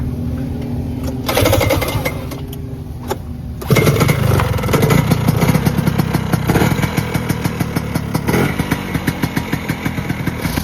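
A vintage snowmobile's small engine is heard being started at a vintage snowmobile run, then catching and running loud and close. The running engine makes a rapid, popping, sputtering rattle with no talk over it.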